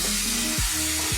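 Leafy greens (shaak) cooking with mustard and fish head on low heat in a pan produce a steady, close sizzle with soft stirring scrapes.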